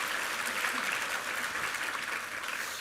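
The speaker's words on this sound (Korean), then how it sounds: "한번 힘찬 격려의 박수 드리겠습니다" Congregation applauding a church choir and its conductor at a Sunday worship service, a steady, fairly distant wash of clapping that fills the hall throughout.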